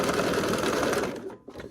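A sewing machine stitches a quilt seam in a fast rapid rattle for about a second, then slows and stops with a few final clicks.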